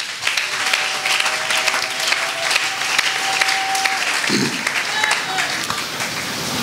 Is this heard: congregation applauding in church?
yes